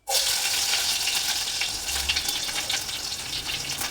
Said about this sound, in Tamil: நெக்ஸ்ட்டு பூண்டு ஆட் பண்ணிக்கலாம்.